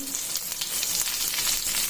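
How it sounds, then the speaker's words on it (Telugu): Mustard seeds and chana dal crackle in hot oil while tempering for a green chilli and tomato chutney, giving a dense, continuous sizzle with fine popping close up. "ఆవాలు చిటపట వేగాలి."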